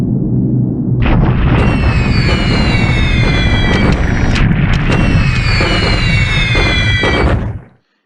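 Bombing explosions from the strategy war game War in the Pacific hit enemy ports, a loud, sustained barrage of rumbling blasts layered with whistling descending tones, ending in a sudden cutoff.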